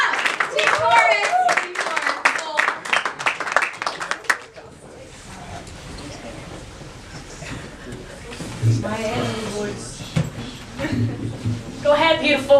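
An audience at a spoken word poetry slam claps as the next poet is welcomed to the stage; the applause swells under and after a host's speech, mixed with crowd noise.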